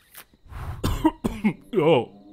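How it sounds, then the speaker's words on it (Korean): A few harsh, abrupt coughs close by after a puff of a cigarette, clustered together, followed by a short voiced utterance. "담배를 한 모금 마시고 기침을 하는 것도 있고"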